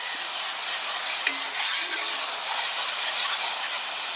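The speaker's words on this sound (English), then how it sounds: "Stir this all around." Teriyaki sauce being stirred in a frying pan, giving a steady broadband sizzle and hiss with faint scraping of the spoon, continuous and fairly close, with no talking.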